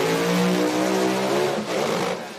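A pro mod drag race car at an IHRA Outlaw Pro Mod event roars loud and close, its engine revving hard under acceleration before the note briefly dips and returns, as if something in the driveline broke.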